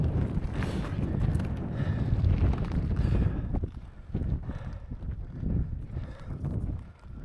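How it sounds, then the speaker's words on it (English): Strong wind buffets the microphone on an exposed coastal bike-packing ride toward Cape Wrath, a loud, steady rumbling roar that surges and eases throughout with no break. "Let's get out of the wind for a bit."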